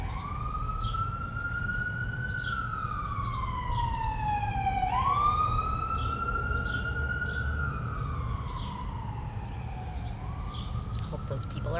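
An ambulance siren passes by outdoors, wailing up and down in long sweeping cycles over a steady traffic rumble, fairly loud and continuous.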